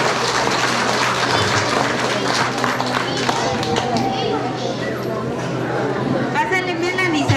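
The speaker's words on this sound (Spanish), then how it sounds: "Un aplauso para ella, por favor." An audience at a kindergarten closing ceremony claps for a third-grade top student, the applause mixed with children's chatter and voices throughout, fairly close and lively.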